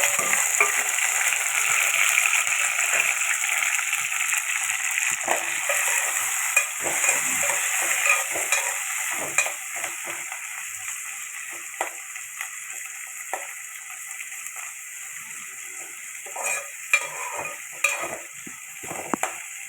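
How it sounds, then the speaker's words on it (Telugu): Onion, green chillies and tomatoes fry in hot oil as the base for a mutton and sweet potato curry, giving a steady close sizzle with scattered stirring scrapes and ticks throughout. "ఇదిగోండి ఉల్లిపాయ, పచ్చిమిరపకాయలు వేసేసాను. ఇవి వేగాలి."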